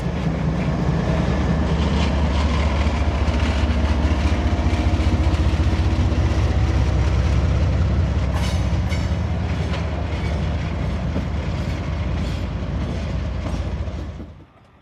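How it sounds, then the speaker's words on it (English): A long grain train backs into a railroad siding, a steady loud low rumble of rolling cars with clickety-clack over the rails and squealing wheels, continuing close by before fading out at the end. "Finally, the grain train is all out of the spur."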